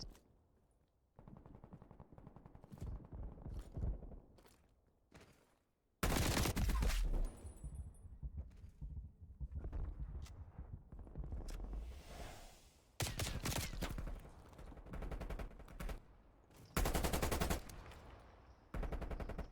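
Gunfire in a competitive shooter match between Atlas Trojans and Enzy Ultra: sharp shots and quick bursts crack out across the clip, some very loud, others softer and farther off, over a busy game background.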